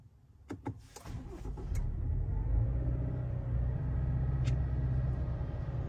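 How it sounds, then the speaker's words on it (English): A Subaru Outback 2.4 engine cranks with a few sharp clicks, catches and settles into a steady, loud idle rumble that holds close and even throughout, with a faint chirp midway. "Let me start the car"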